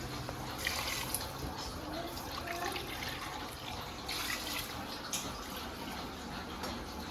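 Steady water pouring into a cooking pot while making Dindigul-style chicken biryani, a continuous broad splashing rush lasting throughout with no speech over it.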